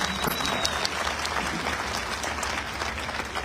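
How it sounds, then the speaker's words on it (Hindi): Steady, dense applause from a large crowd, continuous and fairly loud throughout. "जितने लोग पहली बार आए उनका हम जितने पुराने लोग हैं जोरदार तालियों से उनका स्वागत करते हैं"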